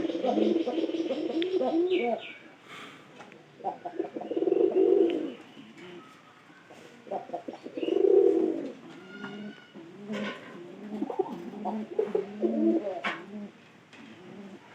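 Pigeons coo near a nesting spot with straw, in repeated low throaty bursts spaced a few seconds apart, with softer chirps and bird calls between them.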